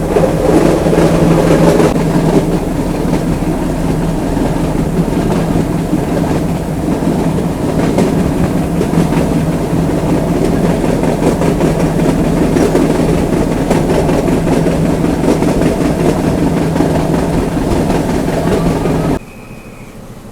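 A metre gauge passenger train runs between Junagadh and Veraval in Gujarat, with a steady rumble and a rhythmic clickety-clack of wheels on rail joints, loud and continuous from start to finish, with no talking.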